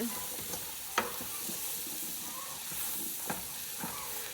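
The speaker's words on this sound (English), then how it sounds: "So I just like to sprinkle it, and then we'll stir it." Soup being stirred in a pot on a homestead stove, a soft steady sizzle and hiss with a few faint scrapes and clinks of the spoon, no voices.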